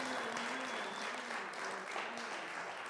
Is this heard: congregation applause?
yes